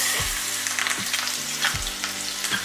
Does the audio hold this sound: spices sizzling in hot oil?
yes